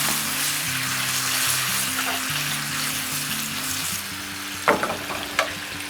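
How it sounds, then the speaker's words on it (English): Tofu simmers in water in a pan on the stove, giving a steady sizzle and bubbling with a low hum underneath, and a few sharp clinks of a utensil come near the end, with no talking. "Let it simmer for a few seconds."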